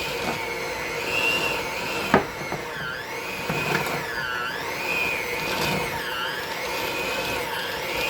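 An electric hand mixer churns chocolate chip cookie dough, its motor whining steadily and rising and falling in pitch as it works through the mix, with one sharp knock partway through and no talking.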